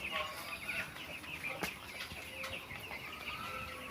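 A dense chorus of chickens clucking and peeping fills a poultry farm that houses about 800 chicks. The calls overlap continuously at a steady, moderate loudness, with no other sound standing out.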